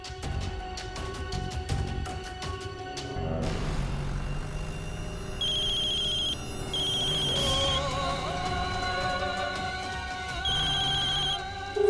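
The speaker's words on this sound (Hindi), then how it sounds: "फोन क्यों नहीं उठा रहे" A telephone rings on and on with nobody picking up, its repeated bell bursts sounding over a dramatic music score in a tense TV serial scene.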